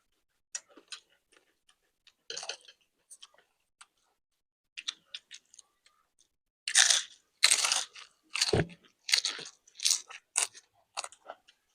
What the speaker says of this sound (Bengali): পাপড়ি চাটটা খাই।